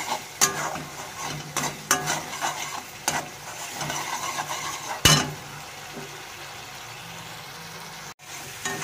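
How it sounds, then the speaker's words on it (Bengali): Jackfruit curry with spices and star anise is sautéed in a pan: a spatula scrapes and clinks at irregular intervals over a soft sizzle, with one sharp metallic clank partway through. "এটা কষছে, কষার মধ্যে এই দেখো"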